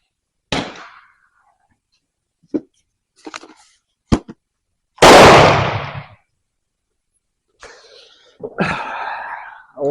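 A Walther .22 caliber training rifle firing CCI Mini-Mag hollow point rounds: several sharp, isolated reports spaced out with gaps of silence, one longer louder burst near the middle.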